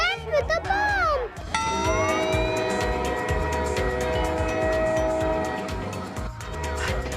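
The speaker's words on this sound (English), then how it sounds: "The train is about to leave." Train horn blares loudly in a rail setting as the train is about to depart, a sustained sounding tone with rumbling carriage noise beneath and people talking throughout.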